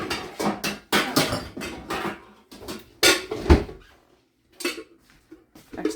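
Casserole dish being pulled from a kitchen cupboard, with a run of loud clattering knocks of dishes and pans, a sharp bang, then quieter rattles nearby.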